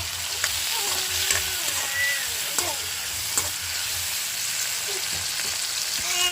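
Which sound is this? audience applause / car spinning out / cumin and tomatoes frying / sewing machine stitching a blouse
cumin and tomatoes frying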